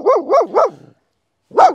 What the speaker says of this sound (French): il n'y a plus rien à aboyer, il est à 50 mètres ton chien là